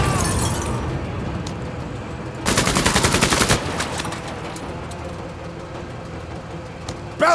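Burst of rapid automatic gunfire in the tactical game Menace, a dense rattling volley of about a second mid-clip standing out over quieter game ambience and scattered shots, with a voice speaking around it.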